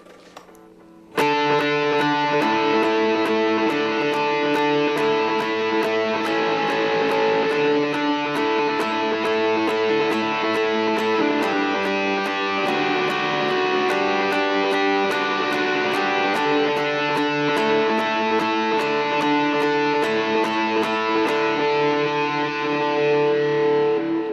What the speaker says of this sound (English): So that was with a pretty aggressive distortion